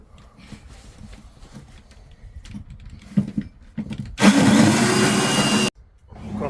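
A power drill bores holes in a van: one loud, harsh burst of about a second and a half, following quieter rustling and handling noise.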